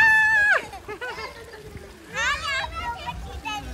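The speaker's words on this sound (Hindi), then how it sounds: "मेरे ऊपर पानी गिरा रही है" Water pours and splashes onto a person outdoors at a beach in Goa, with intermittent splatters under a voice and excited talk throughout.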